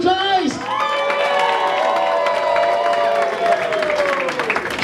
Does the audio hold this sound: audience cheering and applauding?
yes